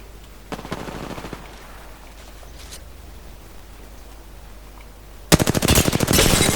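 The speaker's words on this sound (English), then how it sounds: "They're shooting at me" Apex Legends gunfire rattles in rapid automatic bursts, a short volley early on and then a loud, sustained stream of shots near the end over a low steady hum.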